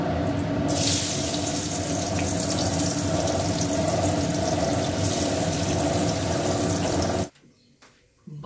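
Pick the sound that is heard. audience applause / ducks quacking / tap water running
tap water running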